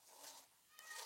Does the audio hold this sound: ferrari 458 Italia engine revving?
no